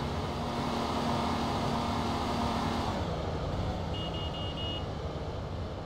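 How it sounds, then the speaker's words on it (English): Car horn beeping repeatedly in the Grand Theft Auto: Vice City video game, short evenly spaced toots near the end over loud, steady traffic and engine noise. "Go blow your horn someplace else."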